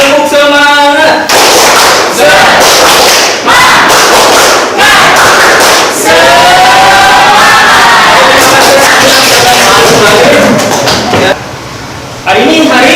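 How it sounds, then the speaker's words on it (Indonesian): A classroom of students stands and performs a tepuk semangat clapping chant, with loud shouted group chanting and bursts of rhythmic claps and thumps at close range, ending in a brief drop and then more voices. "Kita tepuk semangat dulu ya"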